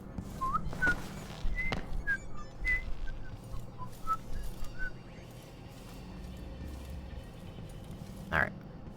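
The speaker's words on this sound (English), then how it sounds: "he says, and then demonstrates with a whistle that he doesn't whistle." A man whistles a short melodic tune of several quick rising and falling notes, close and fairly clear, over a steady background of game ambience, with brief louder bursts near the start and end.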